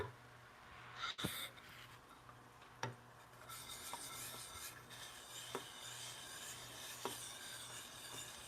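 A woodworking framing chisel polished by hand gives close, repeated rubbing and rasping strokes, with a few sharp knocks and clicks in a quiet shop.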